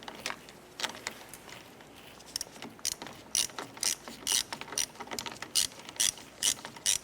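A ratchet tightens a bolt on the headlight trim molding of a 1993-1997 Ford Ranger. It makes quiet pauses, then repeated quick bursts of close, crisp clicking that grow more regular toward the end.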